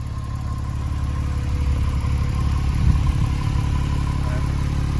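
A 2019 Porsche 991 Targa 4 GTS with sports exhaust gives a low, hollow burble that swells gently as the throttle opens, then settles back to a steady rumble.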